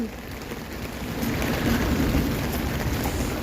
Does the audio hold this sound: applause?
no